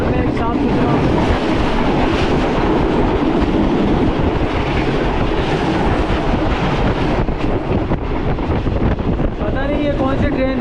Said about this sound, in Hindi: ये कौन सी ट्रेन थी जिसने हमें जो है वो पास किया है